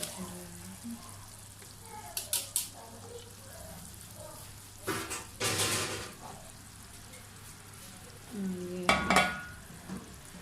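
Rice being tipped into a pot of sweet syrup for zarda and stirred, a low steady simmer underneath with a few short bursts of scraping and pouring, one near the start, one midway and one toward the end.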